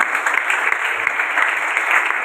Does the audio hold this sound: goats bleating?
no